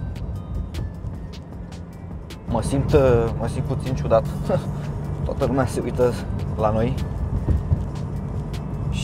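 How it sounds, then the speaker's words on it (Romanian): Bugatti Chiron engine and turbos droning steadily while driving on a poor road in traffic, a low continuous rumble underneath a voice speaking inside the car. "acele turbine parcă zbiară și te îndeamnă"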